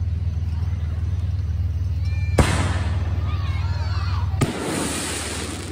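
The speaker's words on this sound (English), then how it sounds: "what do you think about them fireworks" Van Lear Days fireworks in 2023 go off in two loud, sharp bursts a couple of seconds apart, each followed by crackling. Before them there is a low, steady rumble of crowd and ambient noise.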